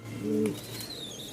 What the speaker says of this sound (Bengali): আর এগুলো হচ্ছে রাজশাহীর রুলার কবুতর